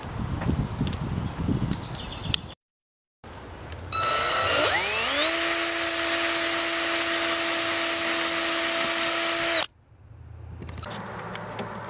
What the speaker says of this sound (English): I'm about to drill my holes